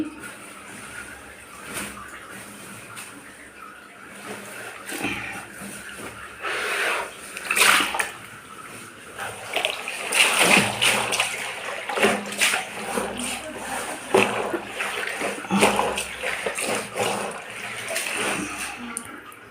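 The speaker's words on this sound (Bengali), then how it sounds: "এখন সব ভেজাবো জলের মধ্যে সার দিয়ে দিচ্ছি" Saris and pillow covers are soaked in water with detergent, with repeated sloshing and splashing as the cloth is pushed and moved around in the water.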